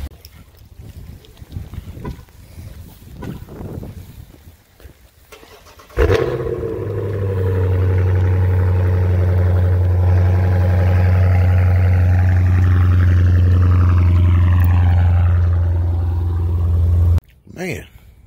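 A 2012 BMW 750Li on the move, a steady low engine and road hum that settles in after a stretch of talking inside the car and holds until a sudden cutoff.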